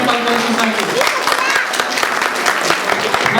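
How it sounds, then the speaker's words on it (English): Audience applause at a Durga Puja cultural society event, steady close clapping from a hall crowd, with a voice briefly heard over it at the start. "A big round of applause for Mr. Manoj Dev"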